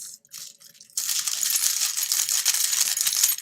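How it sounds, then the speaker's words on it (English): A bunch of metal keys shaken like a tambourine, a quiet jingle at first, then a sustained bright metallic rattle of clinking keys, close and alone. "I can shake my keys, and it might sound like a tambourine."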